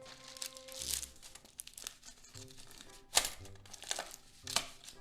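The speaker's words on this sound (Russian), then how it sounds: "Укладываем пергамент." Parchment paper crinkles as it is pressed into a 22 cm springform pan for a pumpkin cheesecake, quiet close rustling with several sharper crackles.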